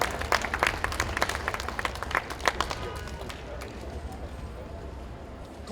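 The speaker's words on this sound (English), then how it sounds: "I'm going to need a big round of applause for our struggle veteran." Audience applause at a Nelson Mandela birthday tribute in 2014, a burst of scattered clapping that thins and fades over several seconds, with crowd murmur underneath.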